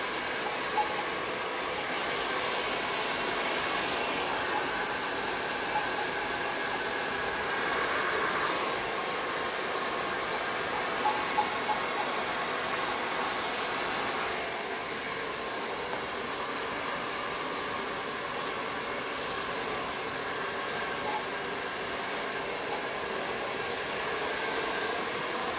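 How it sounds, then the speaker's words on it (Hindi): A hair dryer dries a hair patch, a steady loud whooshing blow that runs unbroken and close throughout. "पास ड्रायर है वो ड्रायर से सुखा लें ताकि ड्रायर से काफ़ी अच्छे बाल बन जाते हैं"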